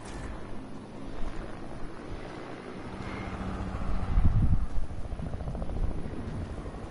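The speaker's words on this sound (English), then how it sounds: "Oh, yup, helicopter. I hear it." A helicopter in a video game drones overhead as a steady low rumble mixed with wind-like noise, swelling louder around the middle of the passage and then holding.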